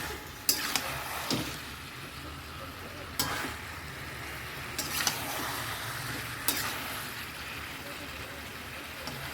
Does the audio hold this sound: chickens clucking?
no